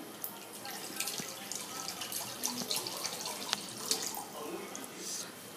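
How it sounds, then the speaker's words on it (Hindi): Cold water poured into leftover batter and coating powder while making chicken popcorn, giving a thin, steady trickle with small drips and splashes at close range. "हम इसमें अब ठंडा पानी डालेंगे, इसमें ठंडा पानी ही डालना है।"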